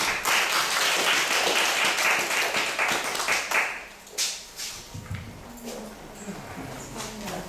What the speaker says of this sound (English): please welcome Deepika Pathak with a big round of applause